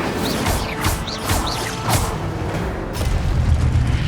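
Incendio fire spell blasts in Hogwarts Legacy, a few whooshing bursts and booming impacts with rising swishy tones spread over a few seconds, close and fairly loud over a busy game background.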